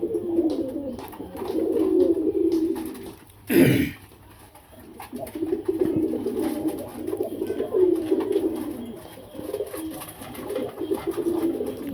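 A dove coos in repeated low, soft phrases, fairly close, with a brief sharp noise partway through and faint background sounds between calls.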